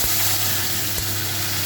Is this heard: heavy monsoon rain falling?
no